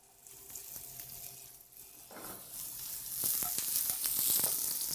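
Thinly sliced garlic and celery fry in a pan, a soft sizzle building steadily over a few seconds with light clicks of stirring, close and unaccompanied by speech.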